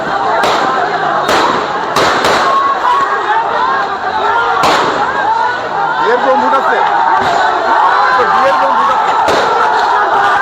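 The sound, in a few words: police sound grenades and rubber bullets fired at protesters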